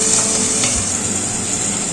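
Pabda fish fry in mustard oil in a pan under a lid, giving a steady, moderately loud sizzle with a soft hiss and a faint clink of cookware near the start.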